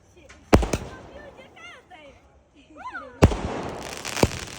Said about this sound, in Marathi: लावून घेतले फटाके लगेच